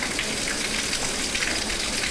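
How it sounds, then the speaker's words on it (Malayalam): Heavy rain pouring down hard, an unbroken dense hiss of downpour heard steadily throughout with no voices. "മഴ അപ്പോഴും നല്ല അടിച്ച് തകർത്ത് പെയ്തുകൊണ്ടിരിക്കുന്നത്"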